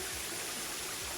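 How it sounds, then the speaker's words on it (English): Water of a small stream running over rocks just below a waterfall in remote woods, a steady close rushing and gurgling wash with no voices. "there's another stream enters with it, triples the water flow."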